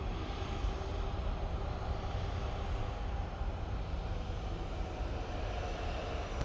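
Boeing 747 engines at start-up and pushback, a steady muffled low aircraft engine rumble heard from inside the cockpit, even and continuous throughout.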